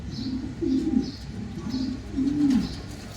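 King pigeons cooing close by in a loft, several soft, low throaty coos rising and falling in a slow rhythm, with faint higher chirps behind them.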